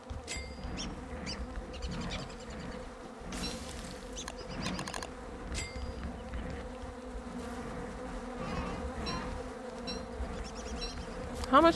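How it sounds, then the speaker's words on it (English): Bees in the Don't Starve Together video game keep up a continuous droning buzz that wavers in intensity, alongside scattered in-game clicks and effects, with no talk. "at least the buzzing sound stopped"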